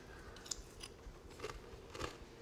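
Close, soft crunching and chewing of a rum coconut sundae with ice cream, toasted coconut, almond crunch topping and juicy red berries, with several irregular bites and no talking.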